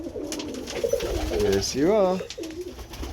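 Pigeon giving a loud, close rolling coo at a feeding spot, its wavering call rising and falling once or twice while someone speaks softly over it.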